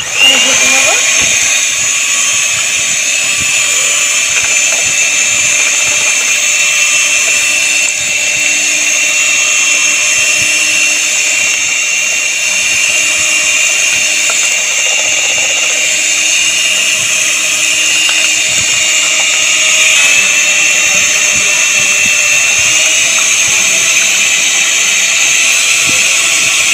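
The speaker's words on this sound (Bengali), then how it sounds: "ভালো করে ঘেটে নিয়েছি হ্যান্ড ব্লেন্ডার দিয়ে" A hand blender whirs continuously while mixing a mango milkshake with ice pieces, a loud, close, high-pitched motor whine that holds steady for the whole stretch, with faint clatter underneath.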